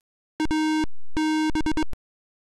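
Sharp electronic beeps from a PC speaker in the Plop Boot Manager play a short Morse code pattern: one long tone, a pause, then another long tone and several rapid short beeps, loud and clean.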